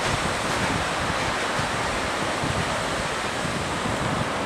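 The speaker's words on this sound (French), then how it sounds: "Il y a passablement de vagues, par exemple." Sea waves wash over a beach in a continuous broadband roar, with steady surf and wind noise filling the clip and no voices.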